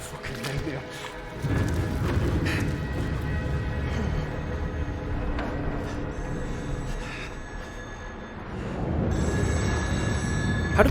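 Telephone ringing in the horror video game Still Wakes the Deep, set on a North Sea oil rig, repeating rings over game music and ambience, with people talking loudly over it.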